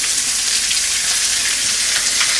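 Chopped raw onions hit hot oil while chicken kosha is cooking, giving a steady, loud, close sizzle of frying that runs without a break and has no talk over it.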